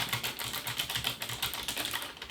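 Rapid typing on a Logitech G815 RGB mechanical keyboard with GL Clicky switches, a dense stream of sharp clicky keystrokes, close and steady, with no talking.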